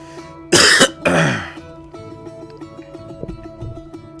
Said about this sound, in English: forgive me for coughing up half a lung while I'm here.